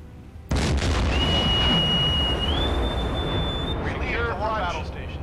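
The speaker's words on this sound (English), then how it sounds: "Big explosion underwater over there, and there we've got the junk sinking" Underwater explosion in the submarine game Silent Hunter 4 as a junk sinks, a loud sustained rumbling boom with a thin whistling tone above it and warbling tones near the end, under speech.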